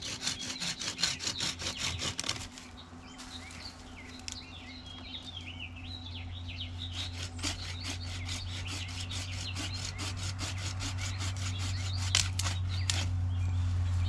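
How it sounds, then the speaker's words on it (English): Hand pruning saw cuts through a big boxwood branch in summer, fast repeated rasping strokes, close and crisp, pausing briefly before a long run of steady back-and-forth sawing. "do a little more pruning."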